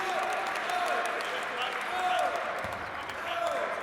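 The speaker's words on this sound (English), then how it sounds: "And the crowd enjoying that." Basketball crowd in a college gym applauding and murmuring after a blocked shot, steady broadband clapping filling the whole stretch with a public-address voice faintly audible underneath.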